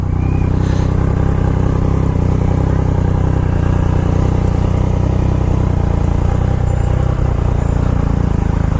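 Dense New York City street traffic during a tunnel closure, with a steady, loud roar of car and motorcycle engines and clattering vehicles filling the whole stretch and no voices.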